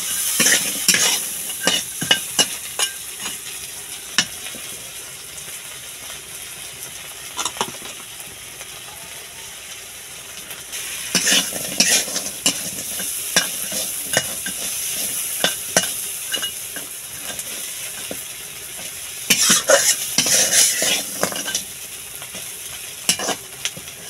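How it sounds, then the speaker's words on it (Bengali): Parshe fish fries in hot oil with salt, giving a steady crackling sizzle under repeated clattering strokes of a spatula stirring the pan, louder in bursts, with no talking. "পরিমাণ মতো লবণ দিয়ে একটু ভেজে নেব। ভালো করে ভেজে নিতে হবে।"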